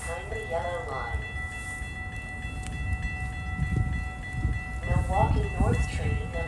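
A Metra Milwaukee North commuter train pulls into a station in the evening rush, with a low rumble building and a recorded platform announcement playing over it.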